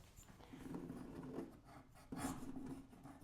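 A small multi-tool cutting a beveled hole through spackle in a bathroom wall, making a close, gritty rasping scrape in two short bursts with a brief pause between them.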